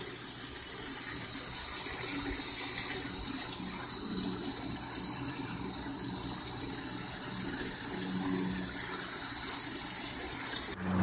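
Water from an aquaponic grow bed drains steadily through a siphon, a continuous gushing, gurgling rush heard close and alone, holding level throughout before cutting off at the very end.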